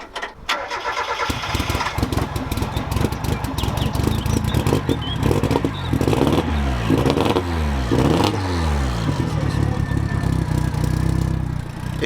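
A turbocharged 1.6 Mazda MX5 with a newly fitted exhaust cranks and fires, then runs loud and rough near the microphone, its uneven, misfiring idle holding steady throughout.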